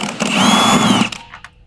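A power tool, likely a drill or impact driver, whirs steadily for about a second while loosening the strut top bolts on a VW MK5/MK6 during a coilover install, then stops with a few faint clicks after.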